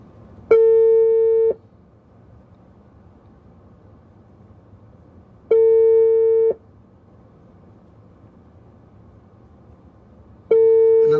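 Telephone busy signal on a callback attempt: three loud, steady one-second tones spaced about five seconds apart, with faint line noise between them and no talking.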